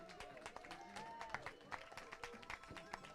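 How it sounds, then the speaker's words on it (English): At the finish line of the Squamish 50 trail race, spectators clap and cheer in a scattered, fairly faint patter from a small crowd, mixed with voices. "I hear claps"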